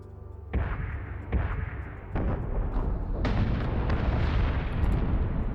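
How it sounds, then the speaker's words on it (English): Missiles launching and exploding in the space combat game Battlestar Galactica Deadlock: several heavy booming blasts in succession, loud and close, followed by a sustained rumbling barrage. "There goes some missiles."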